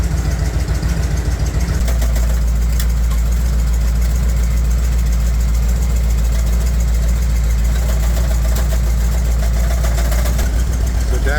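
A Bombardier wide-gauge snow vehicle's engine idles steadily inside a shop, a loud, continuous low rumble with faint knocking texture throughout, a fan running nearby.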